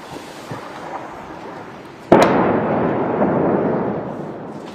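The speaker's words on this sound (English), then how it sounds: "a large explosion hit Lebanese capital Beirut's southern suburbs on Sunday night" A large explosion in the southern suburbs of Beirut, Lebanon, at night: a sudden loud blast that hits without warning over quiet background rumble, then a sustained roaring rumble that slowly fades.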